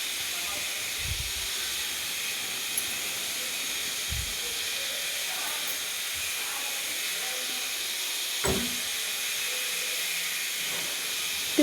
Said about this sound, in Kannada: ಗ್ಯಾಸು ಸ್ಲೋ ಇಟ್ಟು ಕುದಿಸಬೇಕು ರೀ